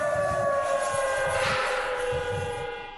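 Air raid sirens wail in Lhasa, Tibet, a sustained, distant-sounding tone that holds steady and then fades slightly toward the end, with no voices.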